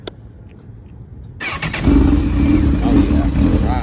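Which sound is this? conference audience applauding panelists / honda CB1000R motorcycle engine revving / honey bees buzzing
honda CB1000R motorcycle engine revving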